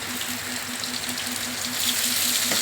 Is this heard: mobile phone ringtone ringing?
no